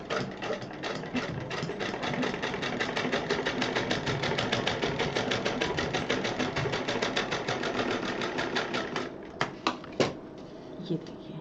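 A sewing machine stitches a handmade purse over a zipper area, running in a steady, rapid mechanical chatter for about nine seconds before slowing into a few separate stitches and clicks near the end.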